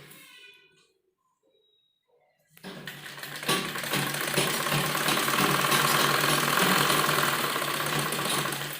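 A sewing machine stitches around a fabric strip on a suit or kurti, a steady close mechanical whirring that starts after a brief quiet pause and runs continuously to the end, with faint voice at the start.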